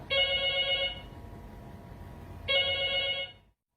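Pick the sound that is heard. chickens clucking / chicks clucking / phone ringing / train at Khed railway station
phone ringing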